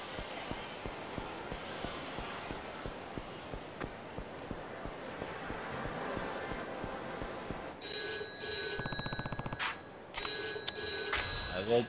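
Telephone ringing inside the video game Yakuza 3, coming in around the eight-second mark as loud repeated bursts with a short gap between them, after a stretch of background game sound.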